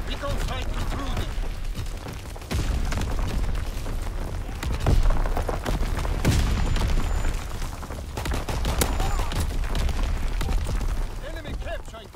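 Artillery barrage in Call of Duty WWII, rolling booms and gunfire blasts crowding one another at close range, mixed under game voice callouts.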